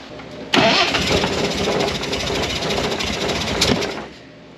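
An engine cranks and catches with a sudden loud burst, runs roughly and loudly for about three seconds with an uneven rumbling chug, then cuts back down.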